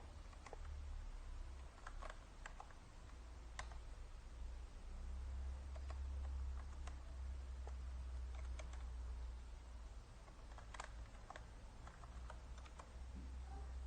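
Soft, faint keystrokes on a computer keyboard tap out irregularly while typing into PowerPoint, scattered clicks over a constant low hum of background noise.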